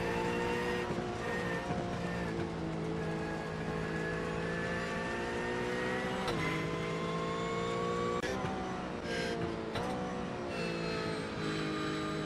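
Race cars in wet conditions at Spa in the iRacing sim, with engines droning and revving steadily and continuously, rising in pitch through gear changes with no talk over them.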